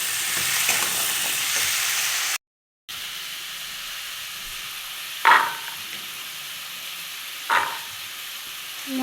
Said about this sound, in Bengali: রসুন আর পেঁয়াজ সম্বার দিয়ে বসিয়ে দিলাম।